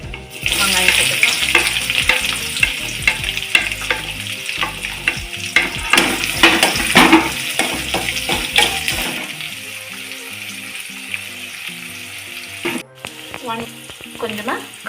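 Onions hit hot oil already crackling with mustard seeds and roasted chana dal for banana stem poriyal: loud, busy sizzling and stirring scrapes over background music, easing to a softer steady hiss in the last seconds.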